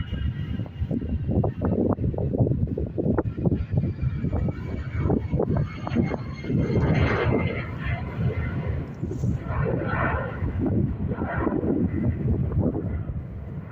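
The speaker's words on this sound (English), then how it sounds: "EI210, operated by Aer Lingus with the old livery, heading over to Manchester" A loud, continuous roar of an Aer Lingus jet in old livery departing Dublin Airport for Manchester, heard close and sustained with gusty wind buffeting the microphone.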